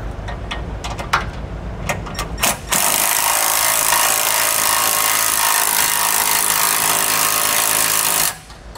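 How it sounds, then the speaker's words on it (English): Installing an electric leveling system on a 2018 Forest River travel trailer: a few sharp clanks and taps of hardware, then a loud, steady power-tool whir running several seconds before stopping abruptly. "now we're gonna go back with a 9/16 socket and wrench to snug down our hardware"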